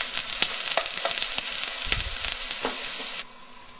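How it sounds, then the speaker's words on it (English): Diced onion frying in a pan for a simple bean curry, a steady close crackling sizzle with occasional stirring scrapes, cutting off sharply near the end. "fry your 1 diced onion. Fry it until it's nice and golden brown"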